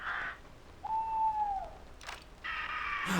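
An owl hoot in the video game Escape Simulator, a single smooth, descending hoot at moderate volume over a faint background hum, framed by short bursts of other game noise.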